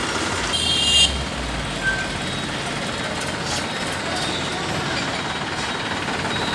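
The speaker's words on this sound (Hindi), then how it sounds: "आवाज सुनिए, क्या शानदार आवाज ट्रैक्टर की।" A Massey Ferguson tractor engine runs at a steady idle at a dealership, a continuous low rumble with a brief louder rise near the start, while people talk in the background.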